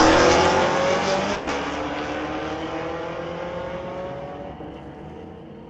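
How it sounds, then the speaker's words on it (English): A Corvette and a Camaro drag race down the strip at Mission Raceway Park, loud engines roaring away and fading steadily into the distance. "Corvette taking on Camaro."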